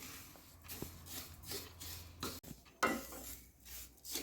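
Wheat rava being slowly roasted in a pan on a low flame, stirred with a wooden spoon: soft repeated scraping and rubbing strokes with faint sizzle and occasional light knocks against the pan, quiet and close.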